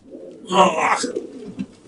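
A racing pigeon coos close by inside a loft, giving one throaty, rolling coo followed by softer murmurs and rustling.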